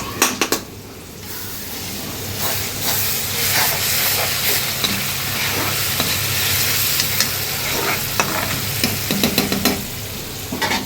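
Masala frying and sizzling in hot oil in a home kitchen, a steady dense hiss with scattered pops and crackles and occasional stirring clatter, close and continuous, no talking.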